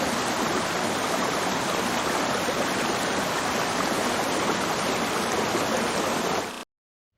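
A river rushes steadily, a dense unbroken roar of flowing water close by that stops abruptly near the end.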